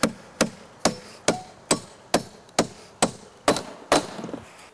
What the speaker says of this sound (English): You have to put it in, just hammer it in.